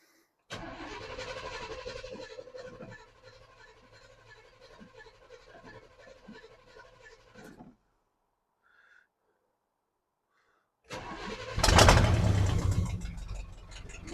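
After choke is applied, an old engine cranks and catches, running with an uneven mechanical chatter for several seconds, falls silent, then a louder burst of engine noise returns at the end.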